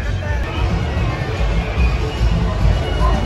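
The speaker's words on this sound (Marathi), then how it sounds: "गर्दी बघू शकतो" A dense crowd fills the street at Ganpati Visarjan near Lalbaug Cha Raja in Mumbai, a steady outdoor roar of many voices and babble with low rumbling traffic underneath, loud and continuous.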